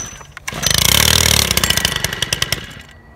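A Stihl FS 91R weed eater engine is pulled over on full choke, catching with a loud, rough, rapidly pulsing two-stroke burst that sputters and fades into uneven firing pops over about three seconds, with no talking.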